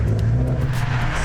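Nissan 370Z with a Greddy Evolution GT cat-back exhaust, loud and close, a deep throaty rumble as the engine revs, steady and strong with no voices over it.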